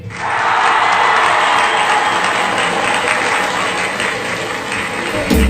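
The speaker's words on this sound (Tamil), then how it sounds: "நீங்கள் கைத்தட்டினா தான் நாங்கள் ஸ்டேஜுக்கே வருவோம்." An audience at a school children's day celebration breaks into sustained, loud applause with some cheering, a dense steady roar of clapping lasting several seconds.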